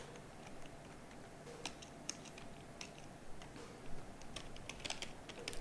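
Quiet, close typing on a computer keyboard, irregular soft key clicks in quick runs with brief pauses, no voices.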